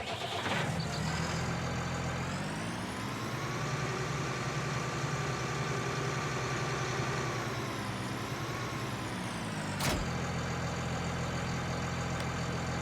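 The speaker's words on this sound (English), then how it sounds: "we're gonna grab another red tractor in the red New Holland" Red New Holland tractor idling in Farming Simulator 19, a steady low engine drone that holds even throughout with slight pitch shifts and no talk.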